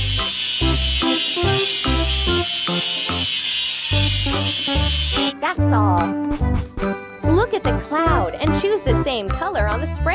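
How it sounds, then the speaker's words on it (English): A grinder buzzes with a harsh, noisy rasp while grinding a welding seam in a children's train-building game, running for a few seconds before upbeat game music and chimes take over. "Let's grind the welding seam."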